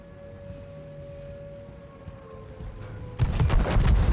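Tank ammo rack detonation in World of Tanks, a sudden loud explosive burst of crackling blasts that erupts after several seconds of low engine hum and tonal whine and keeps roaring to the end.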